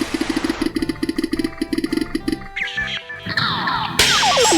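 A synthetic video game boss effect built from a theremin sample with effects layered on, a rapid chugging pulse that breaks into warbling, sliding electronic tones and ends in a loud, bright burst.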